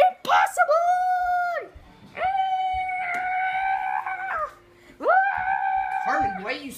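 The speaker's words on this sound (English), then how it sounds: "why are you screaming?" A woman screams in a dramatic action scene, giving three long, sustained, high, harmonic cries separated by brief breaths, loud and close.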